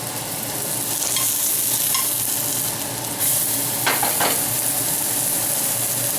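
Gluten-free bun dough cooks in a pan with a loud, constant sizzling hiss, briefly swelling with a couple of sharper crackles partway through.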